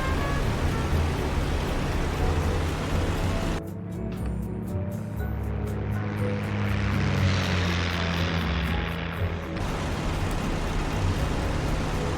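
A P-51 propeller fighter in the flight game IL-2 Sturmovik climbs with a loud, steady engine roar and a wind-like rush that shifts partway through, and no talk.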